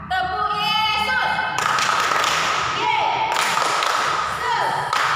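Children clapping along during a Sunday school worship session: bursts of fairly loud, dense hand claps that start and stop, with music and voices running underneath.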